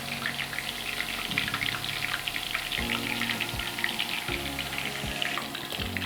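Spinach leaves frying in hot oil until crispy, a steady, loud, dense sizzle and crackle filling the whole stretch with no voices over it.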